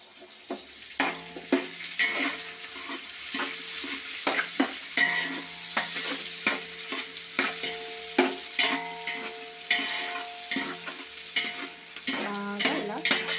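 Chicken biryani mixture with green chillies frying in a pot is stirred steadily, a continuous sizzle broken by rhythmic scraping and clattering strokes of the spoon, close and moderately loud.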